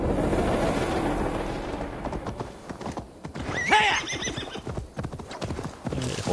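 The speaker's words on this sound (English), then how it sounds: "The horse is about to dump you." A horse in the video game Assassin's Creed Valhalla neighs loudly midway while hooves clip-clop in a steady gait, close, alongside other game sounds.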